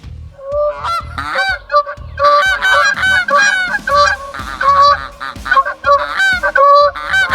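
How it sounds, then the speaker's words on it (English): A goose honks loudly and close by in a rapid run of nasal calls. Short bursts repeat in irregular clusters with only brief pauses between them. "This is a goose."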